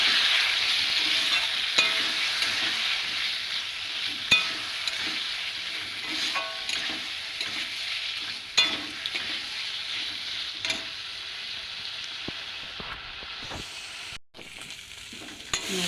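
Spice masala being stir-fried in a pan, a continuous hissing sizzle broken by repeated scrapes and clinks of a spatula, close and fairly quiet, with no voices.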